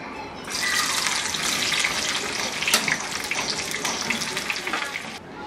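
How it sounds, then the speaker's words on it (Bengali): Onion and garlic frying in oil in a home kitchen, a steady hissing sizzle close by that swells briefly midway, with no talk. "এখন এর মধ্যে পেঁয়াজ রসুনগুলা দিয়ে আমি ভেজে নিব একটু"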